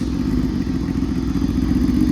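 A Yamaha R6 motorcycle fitted with a new SC Project exhaust runs up close, giving a loud, steady, deep idle rumble with no one speaking.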